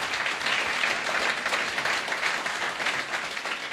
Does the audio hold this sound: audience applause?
yes